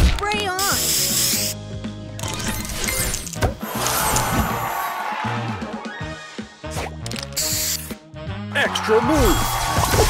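The spray booster effect fires in the Match Masters puzzle game as a hissing spray burst among bright clinks, chimes and busy game effects, loud and continuous, with a voice announcing over it.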